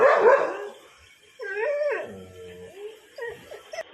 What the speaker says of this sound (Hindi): इसमें पता ना क्यों भौंकता है।